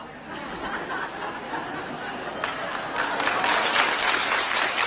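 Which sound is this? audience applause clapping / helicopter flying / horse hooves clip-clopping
audience applause clapping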